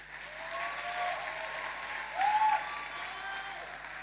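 Steady applause from a conference audience at a 2022 festival talk, a dense wash of clapping lasting throughout with a brief louder swell midway and a faint tonal whistle riding over it.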